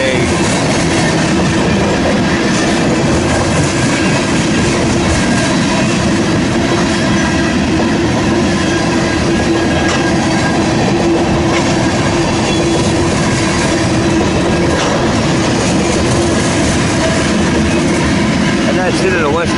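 Westbound mixed freight train rolling past near Fremont, Nebraska, a loud continuous rumble and rhythmic clatter of wagons on the rails, steady and close for the whole stretch.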